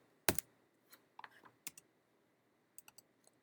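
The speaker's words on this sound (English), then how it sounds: "I'm going to type it." Scattered keystrokes tap on a computer keyboard in a quiet room, a sharp first click followed by a few sparse, light key presses.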